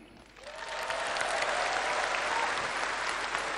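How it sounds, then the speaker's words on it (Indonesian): Sustained applause from the audience at a Gerindra party rally, swelling quickly after a quiet start into dense, steady clapping from a large crowd that fills the hall. "Tepuk tangannya kurang semangat."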